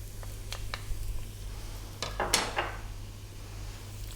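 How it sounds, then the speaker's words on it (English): Chopped onion and garlic tumble into a skillet of hot olive oil, giving a few light clatters and a brief burst of sizzle and pan contact, close and fairly quiet over a steady kitchen hum. "let's drop in that 1 cup of onion, 1 tablespoon of garlic"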